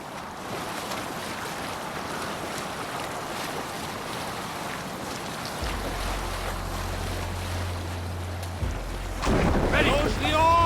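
A Viking longship crosses open water in Assassin's Creed Valhalla, with wind and waves washing steadily, then a low droning hum enters midway and a brief swell of louder sound rises near the end.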